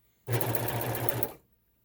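A sewing machine stitches through thick kitchen curtain fabric in one loud, steady burst of about a second, close by, with a rapid rhythmic thrum that starts and stops abruptly.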